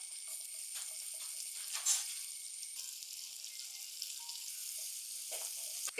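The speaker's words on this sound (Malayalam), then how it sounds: "കുറച്ചൊരു എണ്ണയും കൂടെ ഒഴിച്ചിട്ട് അതിലേക്ക് വെളുത്തുള്ളി ചതച്ചതാണ്" Crushed garlic fries in a little oil in a pan, giving a faint, even hiss of sizzling with a few small pops and scrapes, low in level and without any talking.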